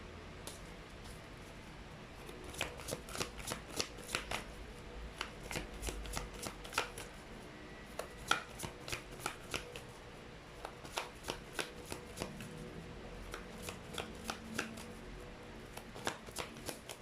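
Tarot cards shuffled by hand for a reading, a steady run of quick soft riffling flicks over a low background hum, close and continuous.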